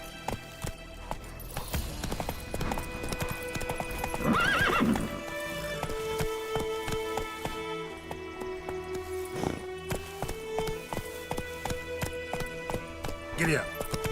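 Horse hooves clip-clopping at a run in The Witcher 3, with a whinny, steady rhythmic galloping over a musical game background and a voice speaking over it.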